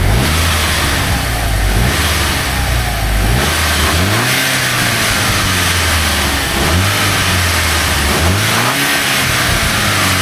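Car engine with a cracked underside part, a snapped clip, revving repeatedly at close range. The engine climbs and falls in several bursts over a steady rough idle, with a harsh rattling, stuttering quality and no talking.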